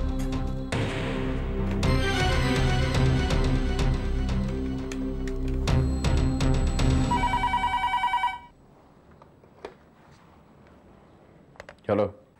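In a Hindi TV serial scene, a telephone rings with a short burst of bright electronic ring tones at the end of a stretch of dramatic music, then the room falls nearly quiet.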